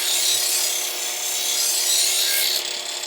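A knife edge is buffed on a power sharpener, producing a steady, close abrasive hiss and rubbing grind with a faint motor tone beneath. The sound runs continuously for about three seconds without speech.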